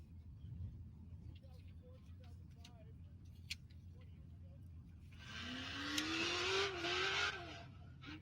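A rock racing car drives past on an off-road course, its engine rising and sweeping by loudly in the latter half while a commentator talks throughout.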